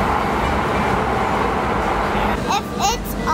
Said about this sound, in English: Okay, train's coming.